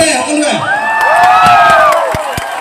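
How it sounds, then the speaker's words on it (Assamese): An audience at a Baikho Dera 2022 comedy show in Manikganj bursts into cheering and whoops, with scattered claps and a rising shout swelling through the middle, a crowd noise that is loud and lively. "ভিগুৰ কাৰণে হাত চাপৰি একেলগে সকলোৱে"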